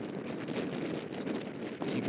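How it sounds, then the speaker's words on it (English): Strong gusty wind rushing across the microphone on an outdoor disc golf course, a continuous loud roar filling the whole moment. "You can hear the wind ripping."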